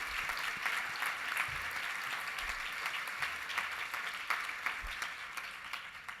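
A dinner audience at a human rights gala applauds, sustained bright clapping from a large room that continues evenly with a few low thumps and gradually tapers slightly.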